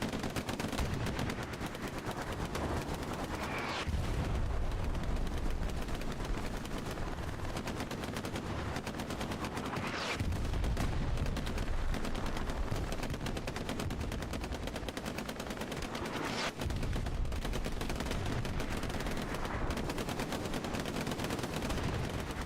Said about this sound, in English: That artillery, devastating.